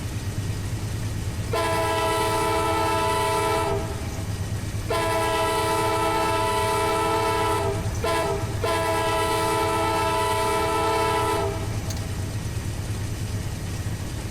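A passenger Amtrak Auto Train in the Run 8 Train Simulator game sounds its loud horn in long blasts: one sustained note, a pause, then a longer blast broken by a brief gap, all over a steady rumbling engine drone.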